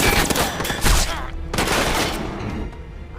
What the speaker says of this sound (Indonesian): Tentara Rusia yang berada di bawah melepaskan tembakan spekulasi dan mengenai kaki Martinelli.